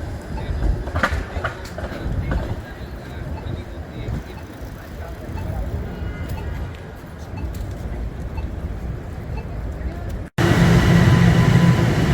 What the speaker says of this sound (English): It's an electric train